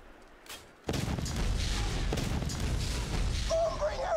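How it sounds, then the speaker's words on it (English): The Boombringer buzzard blows up in Borderlands 2, a loud, rumbling blast that starts suddenly and roars on for several seconds with crackling debris, over a faint voice underneath. "don't look at the explosion"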